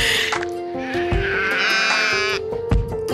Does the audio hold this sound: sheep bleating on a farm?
yes